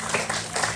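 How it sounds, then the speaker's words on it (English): An audience at a bird flight show at Gumbuya World theme park breaks into a short burst of applause, with steady, dense clapping that stays fairly loud throughout. "big round of applause"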